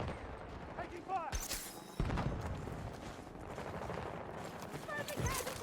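Gunfire in a Battlefield 2042 match, dense scattered shots and bursts with a sharp crack near the middle, over continuous battle noise and radio-style voices.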